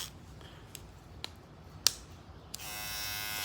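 A Supreme Trimmer T-Shaper ST5200 gold hair trimmer makes a few faint clicks and handling taps, then switches on with a steady, high, close motor buzz.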